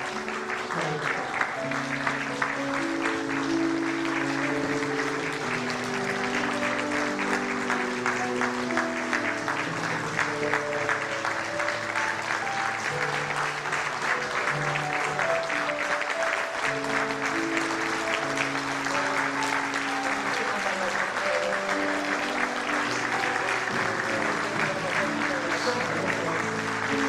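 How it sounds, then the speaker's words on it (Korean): A congregation applauds during a Korean church ordination thanksgiving service, a sustained, dense clapping that holds steady for nearly half a minute while faint organ or keyboard tones play underneath. "박수 한번"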